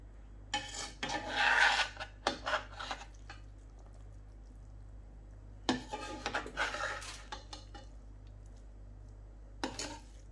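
A spoon scrapes and rubs through sweet zarda rice in a pot in short bursts separated by pauses, close and fairly loud, with a final brief scrape near the end.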